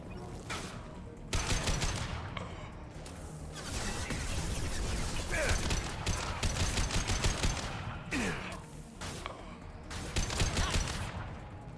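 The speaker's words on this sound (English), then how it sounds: "I love this rifle." Bursts of rapid rifle gunfire from a shooter in the game Mass Effect 2, loud repeated volleys with short gaps, mixed with combat crashes and occasional voices.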